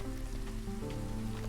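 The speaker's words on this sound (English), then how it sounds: "we're back to the drizzle, which is good" Steady rain drizzle from the Against the Storm video game, a continuous soft patter of drops over low ambient music tones, with no speech.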